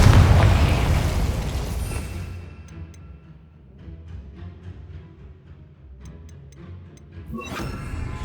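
A Confringo spell explosion in Hogwarts Legacy opens with a loud, booming blast that rumbles and fades over a couple of seconds. Softer ticking game sounds follow, then a second crackling burst arrives near the end.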